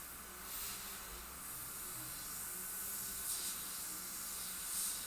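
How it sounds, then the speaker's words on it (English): Airbrush spraying paint onto a motorcycle helmet at around 45 to 50 PSI, giving a steady, close airy hiss that runs unbroken from start to finish with no talking. "spray it like 45, 50 PSI"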